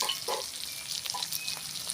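Ginger and garlic frying in a pan for mango achari chicken, a steady soft sizzle with light stirring scrapes throughout.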